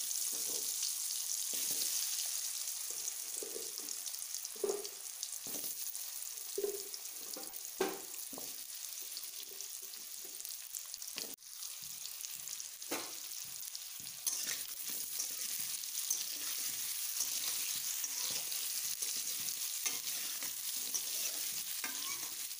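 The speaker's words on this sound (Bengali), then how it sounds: "কড়াইয়ের তেলটা গরম হয়ে গেছে, এখন তার মধ্যে ভেজে নেব আগে থেকে কেটে রাখা পেঁপে" Pieces of cut papaya fry in hot oil in a wok with a soft, steady sizzle and occasional stirring clatter, all fairly quiet and close.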